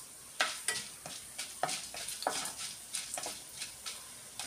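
Ingredients, including dried chillies, frying and popping in oil in a pan, a quiet crackling sizzle with a series of soft spluttering bursts and stirring scrapes, close and alone.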